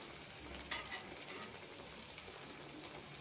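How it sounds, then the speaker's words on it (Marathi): Vadas coated in sesame seeds and brown bread crumbs frying in oil, a faint, even sizzle with light bubbling crackles running throughout. "हे बघा, सर्व वडे मी तळून घेत आहे."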